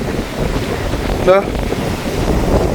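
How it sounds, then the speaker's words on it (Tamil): Storm wind buffets the microphone in a constant roar alongside high ocean waves surging at Keerimalai, with a brief crash partway through. "காற்று பயங்கரமாக அடிக்குது அலைகள்லாம் அப்படியே மேலே எழும்பி எழும்பி வருது"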